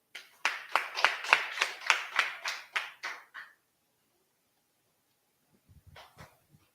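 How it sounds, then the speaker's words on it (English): At a class gathering, a group claps in unison in about a dozen evenly spaced, loud beats, then stops abruptly, leaving near silence before faint low sounds at the end. "Clap it up"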